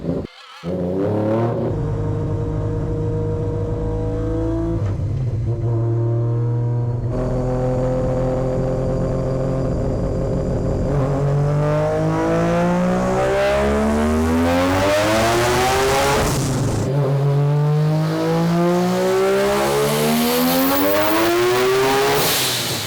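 A three-rotor Mazda RX-7 engine on a 1000 hp dyno run at 25 psi boost, loud and close, drones steadily, then climbs in sweeping revs with rising and falling pitch.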